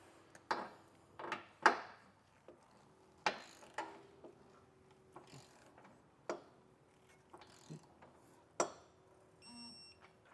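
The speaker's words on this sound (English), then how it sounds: "get your torque wrench dialed into the torque setting, and we'll go through and torque down our hardware" A torque wrench tightens trailer hitch bolts on a 2016 Nissan, with separate ratcheting clicks and metallic snaps spaced irregularly over ten quiet seconds, close by with no talk and a faint beep near the end.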